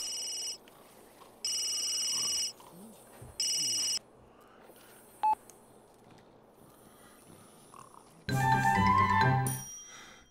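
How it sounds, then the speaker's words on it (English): Phone ringing in The Sims 3 video game, bursts of a bright electronic ringtone repeating in several spaced rings over quiet game ambience, then louder game music and sounds at the end. "Would you stop that and answer your freaking phone?"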